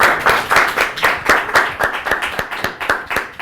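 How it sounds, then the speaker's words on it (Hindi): Rhythmic clapping from a small group, sharp repeated claps in a steady beat, close and loud with no talking. "प्लीज ताली बजा दो"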